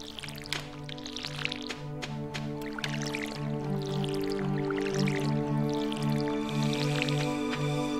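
Crops watered with a watering can in Stardew Valley, a series of soft splashing, squishy drip sounds over steady background game music, with no talk.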